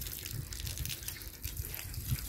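Cold water is poured or runs from a tap, a soft, continuous gush with faint splashing, quiet and close, with no voices.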